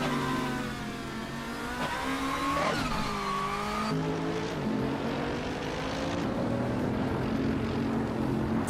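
Racing car engines in the TCR class, including a Seat Leon, rev and shift through the gears. The whining notes climb and fall in pitch over a steady, loud drone.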